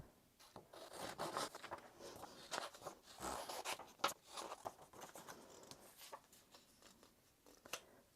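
Scissors cutting out a paper frame for a journal spread, close soft snips and paper rustling in an uneven rhythm, quiet and continuous without talking.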